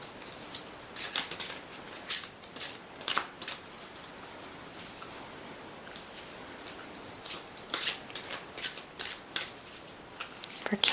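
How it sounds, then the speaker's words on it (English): An oracle card deck is shuffled by hand and a card is drawn, giving quiet papery riffles and flicks in uneven bursts close to the listener, with soft talk in the background. "I am going to go ahead and pull a Goddess Guidance Oracle card just for some clarification and inspiration for your week."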